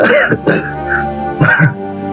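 A few short, harsh coughs and throat-clearing bursts, close and fairly loud, separated by brief pauses.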